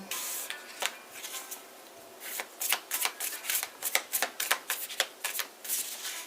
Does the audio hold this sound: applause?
no